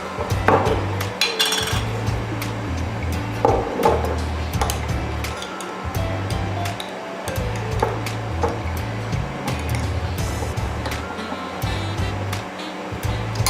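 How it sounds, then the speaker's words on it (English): A knife strikes a cutting board in quick bursts of chopping roasted red peppers, steady runs of taps separated by short pauses, close by. "you could start chopping the roasted red peppers"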